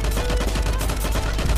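Rapid gunfire in the online shooter LifeAfter, with a FAMAS rifle in play: dense, continuous bursts of shots crackling close and loud without pause, overlapping into a steady barrage.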